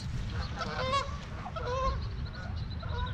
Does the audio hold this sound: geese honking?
yes